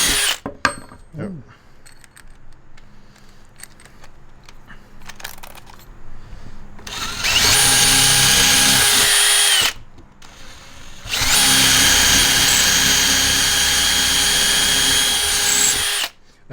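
A power drill fitted with Bad Dog Rover Forstner bits bores two loud, close runs of steady whirring, about two and a half seconds and then five seconds long, after a stretch of quieter handling clatter.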